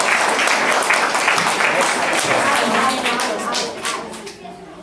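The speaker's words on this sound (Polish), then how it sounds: "Wielkie brawa." Applause from an audience at a literary contest awards ceremony in Olsztyn, a dense steady patter of clapping that holds strong and then thins out toward the end, with a voice faintly underneath.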